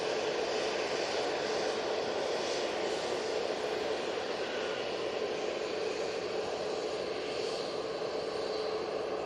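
An easyJet Neo jet airliner at Manchester Airport gives off a steady, broad engine roar at moderate distance, holding an even level throughout without talk.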